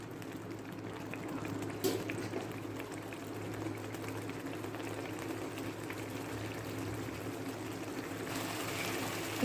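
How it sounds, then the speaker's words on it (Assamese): A pot of mustard greens curry boils quietly on the stove, giving a faint, steady bubbling simmer with occasional small pops and no one talking. "এতিয়া অকণমান উতলিব দিম।"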